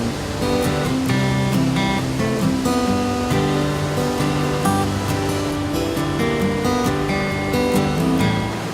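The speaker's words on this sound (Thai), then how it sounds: "น้ำตกตาดเลาะ แม่นกำเนิดมาจากแม่น้ำเซเซต ที่มีต้นกำเนิดจากแขวงเซกอง น้ำตกมีความสูงประมาณ10 เมตร" At Tad Lo waterfall in Salavan province, Laos, a roughly ten-metre falls on a river sends up a steady, loud wash of rushing water. Music plays over it throughout.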